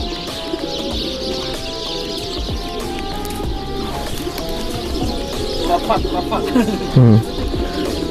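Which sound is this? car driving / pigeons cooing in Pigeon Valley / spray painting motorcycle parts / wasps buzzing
pigeons cooing in Pigeon Valley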